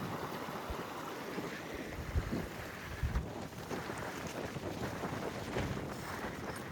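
Steady roaring wind buffets the microphone on a sailing boat near Bargate, with low rumbling gusts alongside a constant rush of water moving past the hull.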